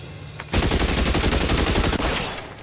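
A sustained burst of rapid automatic gunfire erupts after a short quiet moment in a film scene, loud and dense for about one and a half seconds before trailing off.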